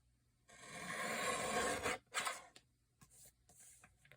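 A close, dry rasping scrape as material is trimmed off a craft piece, one long stroke followed by a shorter one, then a few faint light taps, with no talk.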